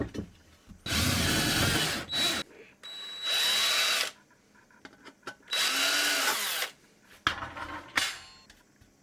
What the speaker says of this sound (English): I marked the holes and drilled them out.